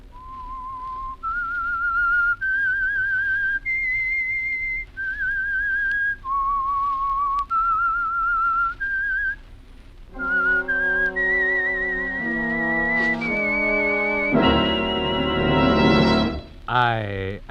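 A clear whistled tune rises and falls in sustained notes, the theme of the radio drama The Whistler, then an orchestra joins and swells to a loud, bright finish.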